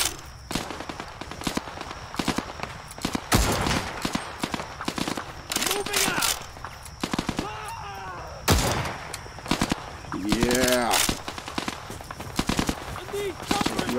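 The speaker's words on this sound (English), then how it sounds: "shot you right in the crotch with a sniper rifle at close distance too" Sniper rifle gunfire in the Zero Caliber VR shooter, heard as several sharp, loud bangs spaced irregularly among other game noise, with voices talking in between.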